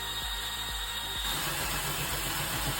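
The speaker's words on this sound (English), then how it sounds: "So I'm gonna put the point of my paddle drill right in the mark where I said at 1 inches and in the center of the board." A paddle drill bores a hole into a wooden board, whirring loud and steady for nearly three seconds and starting with a few uneven pulses before settling into a continuous grind.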